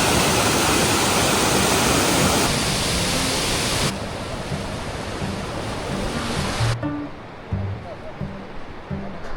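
Waterfalls and streams along the paths in Jiuzhaigou National Park, China, produce a steady, loud broadband rush of falling water that stays constant across the scene.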